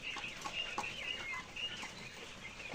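A tiger chicken clucks softly in short repeated calls, faint and somewhat distant, with no one talking.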